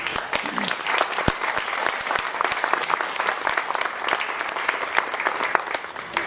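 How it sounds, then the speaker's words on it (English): Audience applause at a live interview event fills the room in a dense, steady wash of many hands clapping, sustained for several seconds at an even level. "a round of applause to them"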